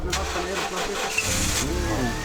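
An old car's engine cranks and catches, then settles into a rough, mid-pitched idle that continues steadily at moderate level, with a voice speaking over it.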